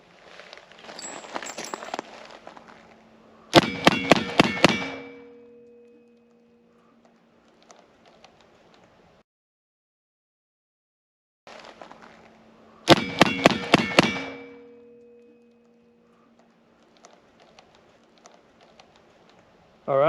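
Two strings of five fanned 45 Colt revolver shots over a chronograph, each a tight burst of loud cracks with a ringing tail, separated by quiet handling noise.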